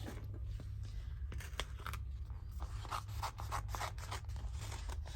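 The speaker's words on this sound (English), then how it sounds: "Cut the circle out." Scissors snipping around a paper circle, a series of quick crisp cuts and rustles, close and quiet over a low background hum.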